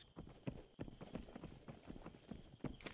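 Footsteps in a multiplayer shooter round out of Contractors Showdown, a rapid uneven patter of steps running close by over a low murmur of background noise.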